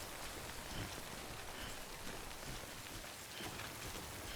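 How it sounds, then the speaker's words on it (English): Steady rain falls across a video game scene, a dense even hiss of drops on surfaces that holds at a constant level throughout with no talking over it. "the rain appears to be lightening up"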